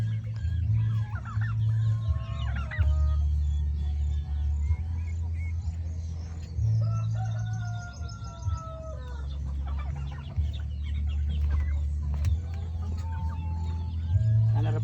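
Farm chickens in a coop cluck and call repeatedly, close and clear, with occasional rooster crowing, over a steady low hum, and no one speaking.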